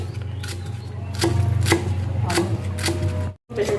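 Steady knife chopping spring onion and coriander on a board, a string of sharp, evenly spaced taps close up, with a low hum underneath and a brief pause near the end.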